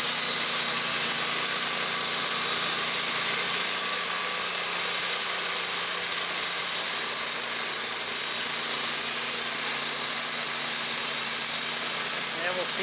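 A Wood-Mizer LT15 band sawmill takes a one-inch cut through a log, producing a loud, steady, hissing whine that fills the whole stretch without pause.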